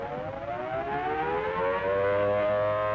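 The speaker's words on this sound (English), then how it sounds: "We must stand by for the sirens." Air raid sirens in a 1942 radio drama wail loudly and steadily, their rising tone sweeping upward and swelling as they sound in the distance.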